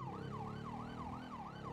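A fire brigade siren in GTA 5 wails in a rapid, regular rise-and-fall pattern, steady and moderately close, with a low engine rumble underneath and no talking.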